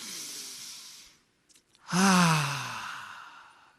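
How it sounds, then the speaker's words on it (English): A group of people draws in a big deep breath together, then lets it out in one long, loud collective sigh that gradually fades away. "we're going to just take a big old deep breath"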